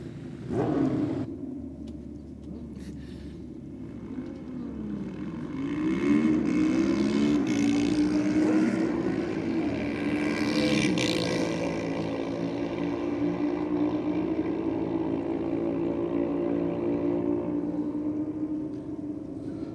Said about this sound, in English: I know you've got bikes running